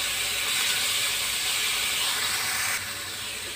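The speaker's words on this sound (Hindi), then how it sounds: "जल्दी से जिंजर गार्लिक पेस्ट को मैं इसके अंदर फ्राई करूँगी" Ginger garlic paste fries in a pan with a loud, steady sizzling hiss that drops slightly in level near the end, close up, with no speech.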